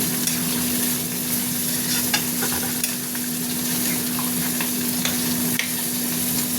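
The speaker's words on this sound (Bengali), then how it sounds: "এবার আমি জল দেবো, মাছের ঝোল হবে তো" Fish curry with ridge gourd, pumpkin and potato cooking in oil in a pan, a loud, steady close sizzle and frying hiss with a constant hum and small stirring scrapes throughout.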